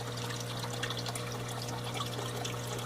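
An Instant Ocean Clone100 protein skimmer runs on a large saltwater aquarium, giving a steady hiss of bubbling, trickling water over a constant low pump hum, with no talking.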